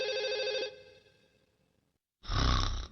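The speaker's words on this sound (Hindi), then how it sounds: "नोबिता, तुम्हारा फोन है।" Telephone ringing in a Doraemon cartoon: a steady electronic ring for about half a second that fades away, then a short loud burst of a second ring after a pause.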